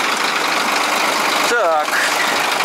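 A car engine idling steadily after warm-up, a constant loud rumble with a brief voice breaking in midway.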